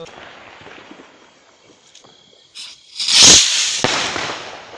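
A firework rocket, set at a tilt outdoors near woodland, goes off with a short hiss and then a loud, close crackling burst that fades away.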